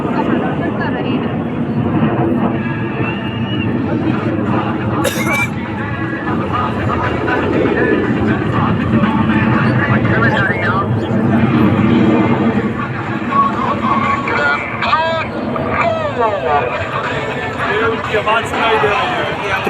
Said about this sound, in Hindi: आपके सामने 4 विमान एक बार का प्रदर्शन कर रहे हैं।